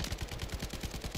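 Rapid automatic gunfire from the JAK Requiem gun in a first-person shooter video game, a fast even burst of roughly a dozen close, loud shots with no talk over it.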